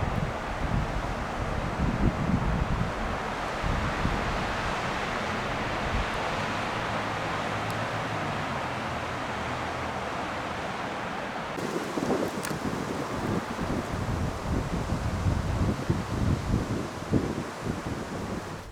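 Strong wind gusts roar over the microphone outdoors on a Colorado mule deer hunt, a steady buffeting rush with rustling and louder thumps toward the end, no voices.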